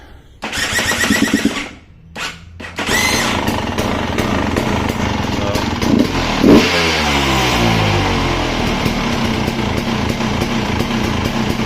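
A KTM 300 two-stroke dirt bike engine, running far too rich, kicks over and catches, then settles into a loud, close, raspy idle with sharp throttle blips and revving throughout, no talk.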